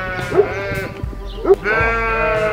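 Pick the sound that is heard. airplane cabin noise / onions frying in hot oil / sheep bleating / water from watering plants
sheep bleating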